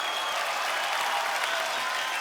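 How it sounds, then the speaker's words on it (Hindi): Studio audience applause on a televised Hindi comedy show, a dense, steady burst of many hands clapping at once, loud and continuous with no speech over it. "ये तालियां जैकी जी के लिए बजाइए"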